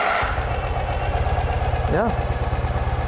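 A 2018 Ural Retro motorcycle engine idles with a steady low, even pulsing throb, close and loud, while a voice speaks briefly near the middle.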